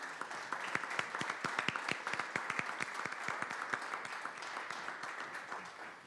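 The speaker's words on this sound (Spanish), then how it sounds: "pido un caluroso aplauso para don Gustavo de la Garza Ortega" Audience applause at a book presentation honoring the author, a quiet, steady patter of many hands clapping for about six seconds, with individual claps standing out in the room before it gradually fades.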